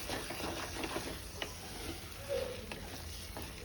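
A spoon stirs Surti paneer gotalo with cheese in a pan, giving soft continuous scraping and gentle sizzling at low volume, with occasional light clicks.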